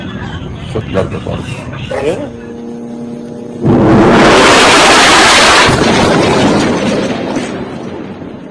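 A loud explosion from a suicide bombing near a hotel in Kabul erupts suddenly and roars as a sustained, rumbling blast before slowly fading, following a stretch of talking and background noise.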